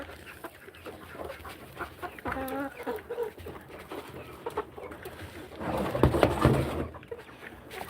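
A large flock of farm chickens clucks and squawks in scattered bursts, with busy overlapping calls and rustling growing louder toward the end.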